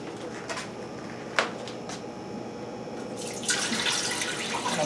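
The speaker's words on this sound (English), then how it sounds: "I'm trying to pour it in gently," Soup stock for a Chinese hot and sour soup is poured into a pot, a soft continuous watery trickle with a couple of small knocks, growing fuller and splashier toward the end.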